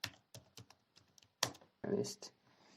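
Computer keyboard being typed on in short bursts of clicks and taps, close and fairly quiet, with brief pauses between keystrokes while a Python lesson is worked on.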